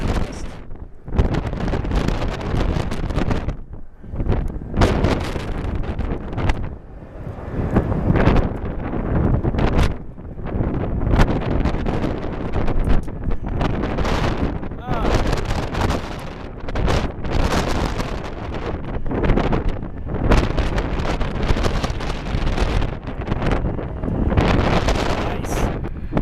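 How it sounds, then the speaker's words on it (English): Strong gusty wind buffets the microphone at Atlanta airport during a wind advisory, a loud continuous roar that surges and dips in irregular waves for the whole stretch, with no talking. "Bigger gust"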